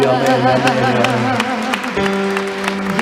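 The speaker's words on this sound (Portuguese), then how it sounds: "Aplaude Ele, aplaude." A church congregation clapping along during worship, rhythmic hand claps over sustained music while voices call out and sing.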